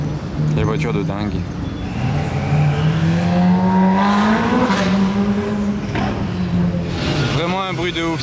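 Supercar engine at a gathering of exotic cars, revving loud and near with rising and falling pitch sweeps over several seconds, ending in a sharper burst of revs.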